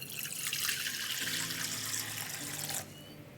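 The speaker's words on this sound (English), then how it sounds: "Now into our saucepan, we're going to add in some water." Water pours steadily into a saucepan as Ghanaian deviled eggs are made, a close, continuous splashing rush that cuts off near the end.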